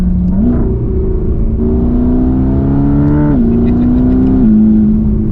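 Mercedes-AMG GT Black Series, 850 hp, revving steadily close up, its engine note climbing in stepped pitch shifts and settling back, loud and continuous with no voices.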